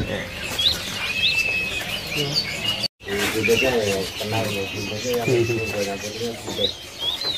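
A white-rumped shama sings clear, varied whistled phrases repeatedly, mixed with chirps, while someone talks steadily over it at a bird market kiosk; a brief cut interrupts partway.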